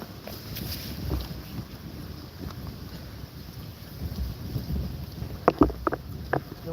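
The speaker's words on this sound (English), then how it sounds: "I think I'm over trying to start a fire in this wind." Strong wind blowing outdoors at a campsite, a steady rough rumble of gusts buffeting the microphone, with a few faint knocks and rustles near the end.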